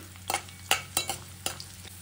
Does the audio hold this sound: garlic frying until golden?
yes